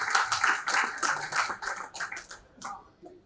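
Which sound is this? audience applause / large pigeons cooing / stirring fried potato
audience applause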